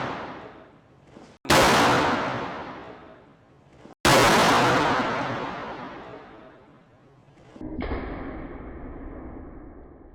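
A car airbag deploying indoors in a large room gives two very loud sharp bursts a few seconds apart, each ringing out in a long decaying echo, followed by a lower rumbling thud.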